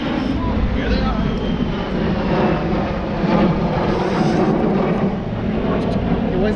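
Jet aircraft, a MiG-17 and a MiG-21, flying at an air show, heard as a loud continuous broadband roar that swells and holds steady throughout, with voices talking over it.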